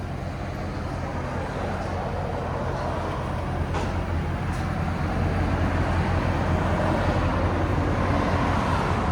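A 2021 Ford Mustang GT 5.0L V8 with a double H-pipe and Corsa Xtreme cat-back exhaust rumbles steadily, a continuous low drone heard up close with no voices over it.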